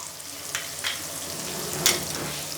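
Potato, mushroom and vegetables being tossed in a pan with chili garlic sauce, with a steady hiss of frying and a few soft spatula scrapes at close range.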